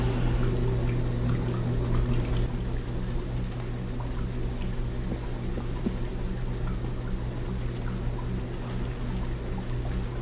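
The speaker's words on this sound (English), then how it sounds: "it's the washer, it's not the dryer. I can hear the water sloshing now." Water sloshes and churns steadily inside a running washing machine in the video game Heavy Rain, a continuous swishing over a low mechanical hum.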